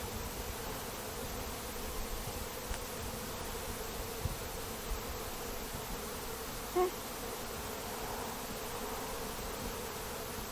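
Honeybees buzz steadily during a hive inspection, a continuous close drone with no talk.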